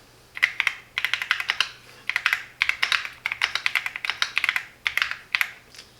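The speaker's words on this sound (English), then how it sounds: "And I can type." Fast typing on a Keychron Q6 Max wireless custom mechanical keyboard: loud, close bursts of crisp keystroke clicks in quick clusters separated by brief pauses, with no talking.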